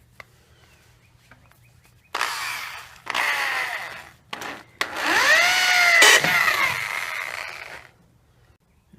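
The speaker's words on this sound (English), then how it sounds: "start drilling some holes and see what happens" A power drill boring holes in mower shock absorbers, several whining bursts of varying length that rise and fall in pitch as the bit bites into metal, with short pauses between them.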